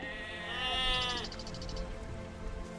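A sheep bleats once in the video game Age of Empires 2, a loud, wavering game sound effect of about a second followed by quieter background game audio.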